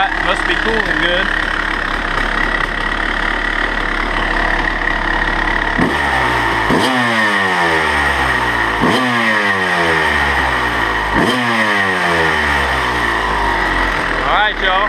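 A Kawasaki KX250 dirt bike engine runs steadily in the dark, with three sharp revs that rise and fall about every two and a half seconds over a constant droning idle, close and loud throughout.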